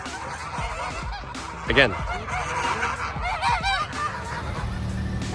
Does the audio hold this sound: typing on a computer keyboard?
no